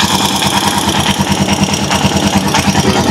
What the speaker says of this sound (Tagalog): ilapit natin yung mic dito sa ating makina para at least marinig ninyo mga ka-best friend